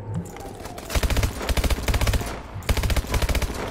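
Rapid bursts of automatic gunfire from Call of Duty Advanced Warfare: two loud, close rattling volleys with a short pause between, then a third burst, with no talk.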